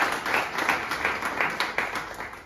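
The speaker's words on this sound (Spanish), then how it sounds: "Jason Murillo, también un aplauso para él." Clapping from a community gathering in Antonio Nariño, Bogotá, honoring Jason Murillo after a campaign; moderately faint, steady dense applause from a small crowd with no speech.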